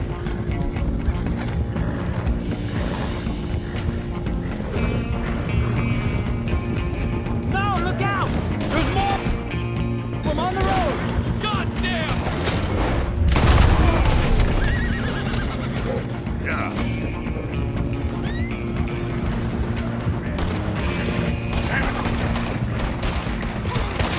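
Horses gallop and neigh in the open-world western game Red Dead Redemption 2, with continuous pounding hoofbeats, repeated loud whinnies and scattered gunshots under a dense, steady game soundscape, with voices talking at times.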